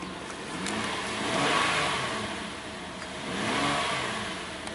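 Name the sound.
Hyundai car engine revving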